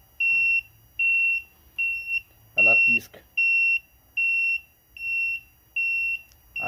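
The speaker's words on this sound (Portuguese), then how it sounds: "E liguei uma buzina, um bip." A small electronic buzzer wired to the hazard flasher of a rental motorcycle beeps in a steady rhythm, about eight short, loud, even tones timed to the flashing lights, with someone speaking briefly in the middle.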